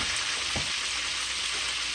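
Spinach wilts in a pot of simmering soup, giving a steady close-up bubbling hiss with a soft stir or clunk partway through and no talking.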